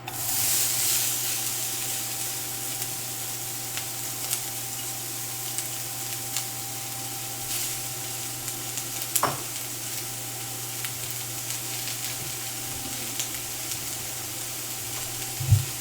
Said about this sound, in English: Right, so I think this is hot enough. I'm throwing the onions first.